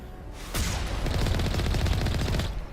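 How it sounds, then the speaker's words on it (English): Sustained rapid gunfire in Mass Effect 1, fired to shoot a door open, a dense loud burst running about two seconds with no talk over it. "we might need to just shoot it open"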